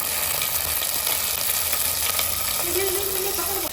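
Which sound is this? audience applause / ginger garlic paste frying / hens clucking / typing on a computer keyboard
ginger garlic paste frying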